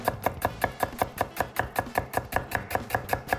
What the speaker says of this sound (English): So 1 onion, very, very finely diced. Just run the knife through there,